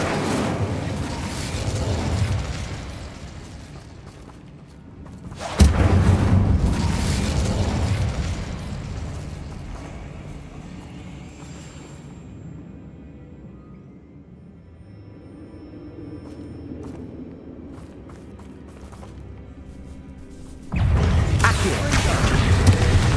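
Incendio fire spells cast in Hogwarts Legacy, loud bursting whooshes of flame that open and close the stretch, with a quieter crackling, rumbling lull between them and no talk.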